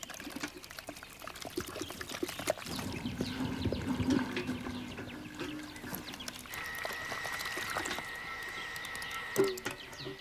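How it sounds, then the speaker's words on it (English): Liquid mixture poured into an ant nest mound coated in gypsum, a steady gurgling pour and trickle with some clattering handling noises, moderately loud and continuous throughout. "Then they could start pouring the mixture."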